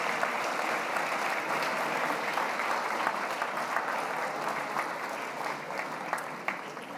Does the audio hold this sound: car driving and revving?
no